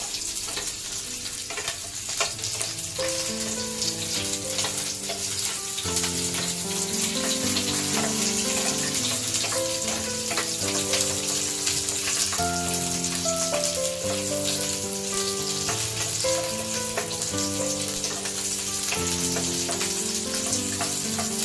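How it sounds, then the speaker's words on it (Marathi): Two vegetables stir-fry on a high flame while paneer kolhapuri is being prepared, giving a continuous hissing sizzle with occasional stirring scrapes under steady melodic background music. "ह्या आपण स्टर फ्राय करून घेणार आहोत। फास्ट गॅसवर फक्त परतून घेणार आहोत"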